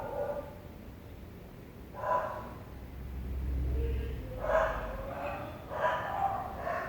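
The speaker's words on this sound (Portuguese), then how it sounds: "Apesar do latido do cachorro, dos barulhos que tem" Several short dog barks sound in a quiet indoor parish house during a free-form recording, separated by pauses, with a low hum running underneath.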